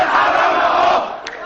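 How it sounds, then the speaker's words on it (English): A dense roar of thousands of protesters chanting in an Egyptian street as tanks roll through, loud and continuous with no single voice standing out, easing slightly toward the end. "Tanks rolled through the streets as thousands chanted for President Hosni Mubarak"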